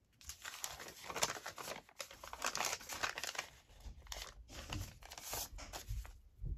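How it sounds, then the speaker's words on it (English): Double-layered paper being torn and crumpled by hand for an envelope journal craft, close and fairly quiet, with repeated crinkling rips and short pauses over about seven seconds. "That bit doesn't want to tear because it's double."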